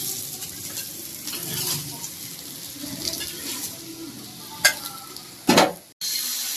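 Fish fries in oil in a home kitchen, a soft continuous sizzle broken by scraping and stirring sounds, then a few sharp clattering knocks of utensil against pan near the end.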